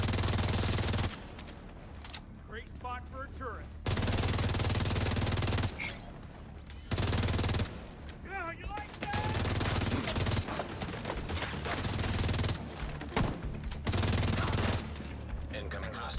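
Rapid bursts of automatic turret gunfire from a deployed turret in The Division 2, recurring in several loud volleys with short gaps between them, mixed with game effects and some talk.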